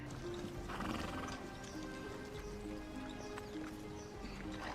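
Horses of a royal court ride into Winterfell castle, with clip-clopping hooves, whinnies and a bustle of movement under a swelling musical score.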